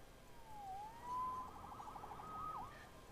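A police-style siren wails at a moderate distance in a Spider-Man video game, its pitch sweeping up and down in a few rising and falling swells over quiet background ambience.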